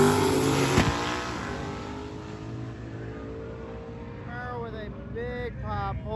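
A drag racing car at a drag-and-drive event lets out a sharp pop, then its engine idles and rumbles down as it pulls aside, with a commentator talking over the second half.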